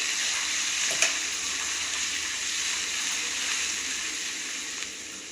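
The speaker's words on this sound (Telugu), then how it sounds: "ఒక 2 మినిట్స్ వరకు ఇలా మంచిగా ఫ్రై చేసుకోండి మీడియం ఫ్లేమ్లో పెట్టేసుకొని" Ginger garlic paste with mint and turmeric fries in oil over a medium flame, a constant bright hiss with a couple of faint spoon taps, with no talk.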